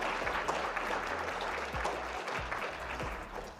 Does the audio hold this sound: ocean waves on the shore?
no